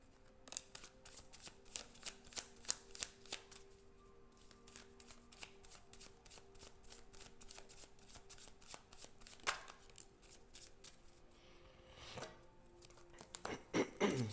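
Tarot cards are shuffled by hand in repeated quick riffles and soft slaps, a quiet, close, crisp patter with brief pauses between bursts and no talking over it.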